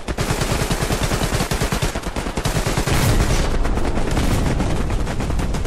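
Rapid bursts of gunfire and heavy blasts in the World War II shooter Hell Let Loose, loud and dense, with rattling volleys giving way to a sustained roar of explosions.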